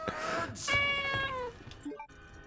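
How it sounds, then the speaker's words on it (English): A pet cat meows loudly and close by, a long drawn-out call followed by a shorter rising one, with no talking. "my cat. You might hear her meowing a little bit."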